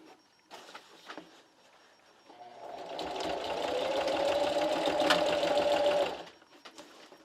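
Sewing machine running a wide zigzag stitch at maximum width along a seam joining carpet tiles into a rug, a steady loud whir for about three seconds after a few soft clicks and handling noises, then stopping.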